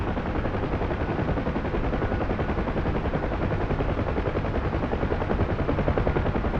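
Bursts of gunfire crackle over the loud, constant thudding rotor of a UH-1 Huey helicopter in the DCS combat flight simulator, a dense, unbroken wall of engine and weapon noise with no gaps.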